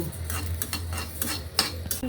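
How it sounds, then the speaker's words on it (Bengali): Mung dal frying in a pan while a utensil stirs it, a rhythmic series of close scraping and rustling strokes with light metallic clinks, about eight strokes in quick succession. "আমি না মুগ ডাল ভাজা নিতে আসছি"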